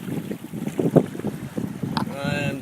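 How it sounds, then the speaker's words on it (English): Kayak sailing along Port Hacking with a following wind and tide, with steady wind buffeting the microphone, water rushing past the hull and faint rigging or strap noises, recorded close and without talk. "I am just sailing along Port Hacking here,"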